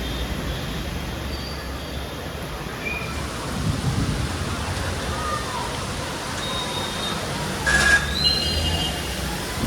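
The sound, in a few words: heavy rain and thunder during a storm in Surat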